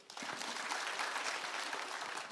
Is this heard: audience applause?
yes